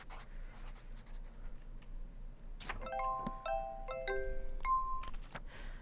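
Scratchy, pencil-like strokes of a flower being drawn in a cozy witch-in-the-woods video game, starting about halfway through with soft chiming game tones over a quiet background hum.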